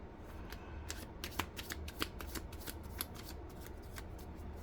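A tarot card deck is shuffled by hand in a quiet room, with a soft steady rustle broken by rapid crisp riffling snaps and flicks of the cards, close and fairly faint.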